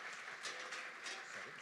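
Brief applause from a church congregation at a Father's Day service, a soft, even patter of many hands heard from a distance.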